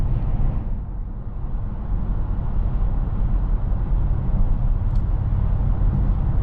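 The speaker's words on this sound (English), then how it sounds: "I'll shut up for a second just so you guys can hear the road noise." Steady low road rumble and tire roar inside the cabin of a 2026 Dodge Charger Sixpack with a 550 hp gas engine cruising on the highway, continuous and even with no talking.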